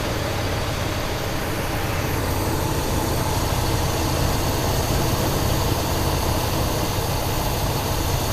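A 1972 Buick GS Stage 1 V8 idles steadily with a low, continuous rumble that runs unbroken and alone, with no voices over it.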